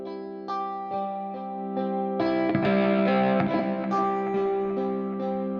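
Plucked guitar tones from the Cinedream cinematic guitar instrument in full stereo width ring out in a repeating pattern, sparse single notes at first, then a denser, brighter layer of overlapping plucks with effects-laden sustain.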